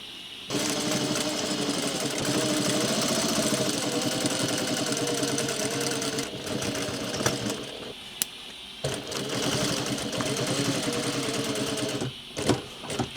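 A sewing machine stitches around the front facing of a pair of dungarees in long, loud continuous runs, pausing briefly around the eighth second and again near the end.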